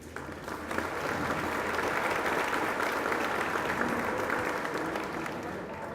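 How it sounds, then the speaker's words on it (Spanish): A conference audience at an electoral institute event applauds for a council member, a broad, even wash of many hands sustained and steady before easing slightly toward the end, heard from within the hall. "Les pido un aplauso para el consejero del Instituto Nacional Electoral"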